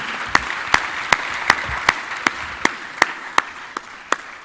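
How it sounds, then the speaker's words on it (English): Audience applause for a panel at the Africa Prosperity Dialogues, steady dense clapping filling the room with a few sharper, louder claps standing out at regular intervals over several seconds. "A big round of applause for my panelists."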